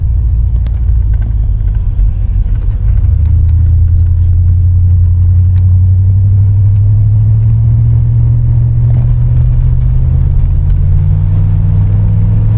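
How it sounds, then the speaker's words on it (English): A stock 305 V8 in a 1987 Chevrolet Monte Carlo SS Aerocoupe runs steadily, with a loud, close low rumble that climbs gradually in pitch as the engine revs up, and no voices over it. "Motor sounds good, you know, it's just a stock 305, nothing crazy"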